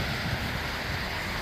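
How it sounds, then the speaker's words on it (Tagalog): Fairly high ocean waves break against sharp rocks at John Smith's Bay in Bermuda, making a loud, continuous surf roar mixed with wind buffeting the microphone. "Ang taas, medyo makakalakas na yung alon niya."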